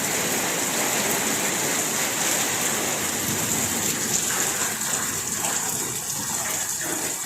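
Heavy rain from a storm pouring down in a steady, dense, loud rush of water with no pauses and no voices.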